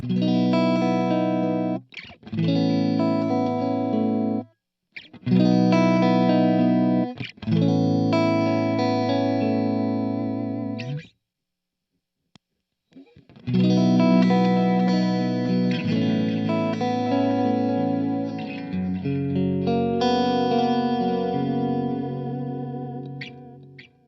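An electric guitar played through a JHS Pink Panther delay pedal with the delay switched off, giving sustained distorted chords and notes in several phrases separated by short silences, dry with no repeats, close and loud.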